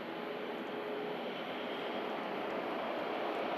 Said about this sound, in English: Singapore A350. Taxiing in, heading off to Terminal 2, Manchester Airport.